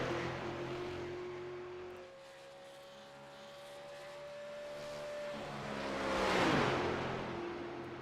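A race car engine drones and whines steadily at a distance, then a louder car sweeps past close by with a rising then falling pitch before the steady engine tone resumes.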